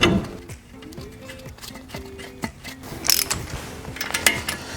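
A torque wrench tightens a tie rod nut on a Jeep Wrangler. Its ratchet clicks rapidly and repeatedly up close in quick bursts, with a sharper metallic snap near the end.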